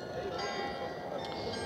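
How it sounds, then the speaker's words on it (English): Church bells of the Munt Tower in central Amsterdam ring out over a steady street and crowd murmur, with sustained bright tones layered through the whole short stretch; people talk nearby. "And now we can hear the bell sounds from Munt Tower."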